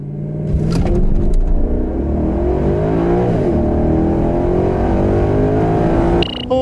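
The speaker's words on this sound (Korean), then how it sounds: "이번에는 마세라티 그란투리스모의 가속 성능에 대해서도 한번 알아볼까요?" A 2017 Maserati GranTurismo Sport accelerating hard from a standstill, its engine roaring loud and steady as revs climb through the gears, heard from inside the car with a brief shift dip near the end.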